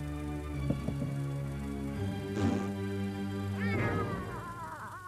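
A cat meows twice in a dubbed Hungarian cartoon, two clear, rising-and-falling cries with a short gap between them, over a steady background music bed.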